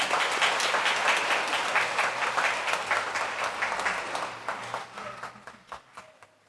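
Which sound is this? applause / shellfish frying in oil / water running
applause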